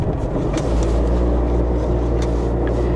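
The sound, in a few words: axle shaft grinding on air-ride Mustang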